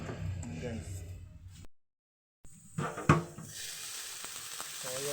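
Cabbage and corned beef sizzle in a hot frying pan with a steady crackling hiss that cuts out briefly and then returns. A person talks over the sizzling.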